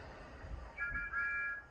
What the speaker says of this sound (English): They even have a best friend's whistle.